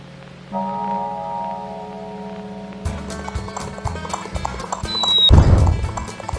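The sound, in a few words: horse galloping in a video game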